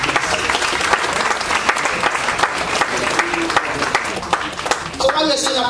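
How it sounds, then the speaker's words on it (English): An audience at a book launch luncheon applauds, with dense continuous clapping filling the room, loud and sustained, while voices talk and cheer beneath it. "Let's clap for him."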